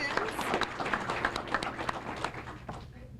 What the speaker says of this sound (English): stand on up and we'll clap for you